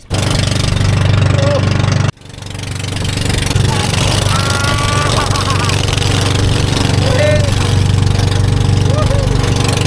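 A motorboat engine on a banca boat in the Philippines runs loudly and continuously, cutting out briefly early on before resuming a steady, rumbling drone.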